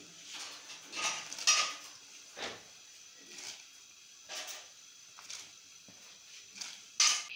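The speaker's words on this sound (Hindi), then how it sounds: "पानी हमारा बॉयल हो चुका है, अब इसमें जाएगी दाल।" Soaked mash dal goes into boiling water in a pan on the stove. Scattered metallic clinks and soft splashy bursts come at irregular intervals and stay fairly quiet, with no one speaking.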